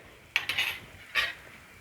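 Coriander seeds, chana dal, cumin, pepper, dried chilli and curry leaves sautéed in a pan for hotel-style sambar: a few faint, brief scraping and clinking stirs of a utensil against the pan, with no talking.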